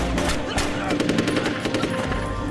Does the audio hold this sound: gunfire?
yes